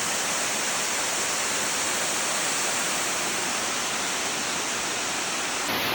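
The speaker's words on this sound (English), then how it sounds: "Here is Glen Falls from the bottom." Glen Falls, a North Carolina waterfall heard from its base, roars in a dense, unbroken wash of falling water, loud and steady throughout with no voices.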